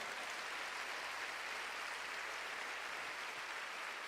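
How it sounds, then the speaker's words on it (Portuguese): Congregation applauding during a charismatic church service, a steady dense wash of clapping sustained throughout without pause. "Dê um aplauso ao Espírito Santo pelo dom de ciência."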